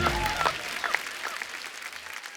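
A studio audience at a comedy talk show claps loudly at first, a dense burst of applause that thins and fades over a couple of seconds.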